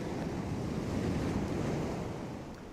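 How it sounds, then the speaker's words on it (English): Sea waves washing continuously against the shore, a broad steady rushing roar that fades slightly at the end, with no voices. "Listen to the sea."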